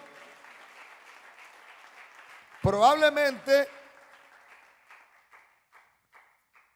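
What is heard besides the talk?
congregation clapping in praise during a church sermon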